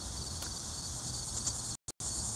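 Cicadas sing near an abandoned asylum in Staunton, Virginia, a faint continuous high buzzing drone that holds steady, briefly cut off twice near the end.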